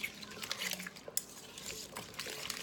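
Island-style pickled cucumbers stirred with a utensil in a bowl, soft wet squelches and light clinks of metal against the dish in an irregular rhythm, quiet and close, no talk.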